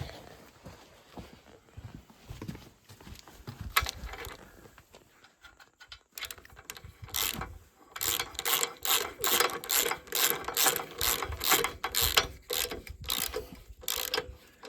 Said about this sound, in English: And then put a big bar on and crank it up really tight.